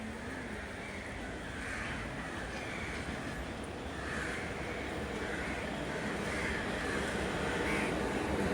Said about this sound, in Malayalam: പക്ഷികളുടെ കരച്ചിലൊക്കെ നമുക്ക് കേൾക്കാം.